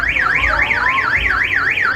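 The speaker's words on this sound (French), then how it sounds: "Et il y a une alarme." A loud siren-like alarm wails in a fast rising and falling pattern, repeating evenly over crowd noise at the Loy Krathong and Yee Peng festival in Chiang Mai, Thailand.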